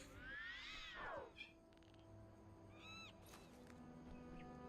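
A pet kitten gives one drawn-out, rising and falling meow near the start, followed by fainter squeaky chirps against a quiet background hum.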